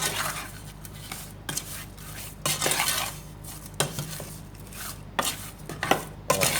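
Fish is mixed by hand with salt and rice for burong kanin, giving irregular wet squelches and clattering knocks against a bowl or pot. The bursts are close and uneven, separated by brief quieter pauses.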